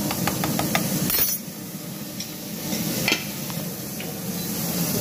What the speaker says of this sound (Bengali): এদিকে জলের আওয়াজ, এদিকে ওই চিমনির আওয়াজ।